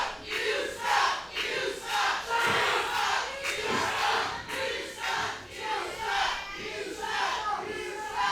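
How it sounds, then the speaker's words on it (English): A wrestling crowd at a heavyweight championship event jeers and roars at the wrestler Scrapiron in repeated loud surges, a dense wall of voices rising and falling throughout. "the crowd is letting Scrapiron hear it"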